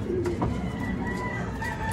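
Pet racing pigeons coo softly and steadily over a constant low rumble of background noise, with a few faint higher calls drifting through and no talking.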